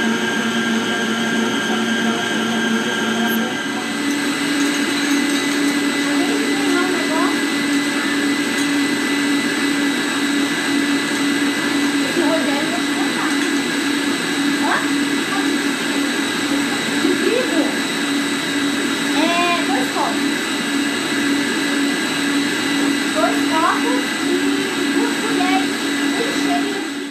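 Electric mixer beating an economical cake batter, a steady continuous whir running loud and unbroken throughout, with faint talk underneath.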